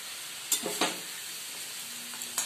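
Fried potatoes sizzling in hot oil as they are lifted out of the pan, a soft steady hiss broken by a few quick scrapes and knocks, close, no talking.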